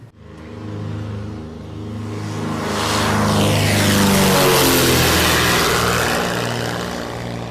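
Small airplane heard in flight on a route from Puerto Princesa, Palawan, a steady propeller engine drone with a rich low hum that swells louder toward the middle and holds close and continuous, with no talking.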